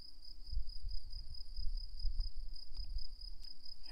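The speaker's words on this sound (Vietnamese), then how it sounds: "Các bạn có nghe thấy tiếng dế kêu không?" A cricket chirps in a continuous high, steady trill, with low rumbling thumps underneath.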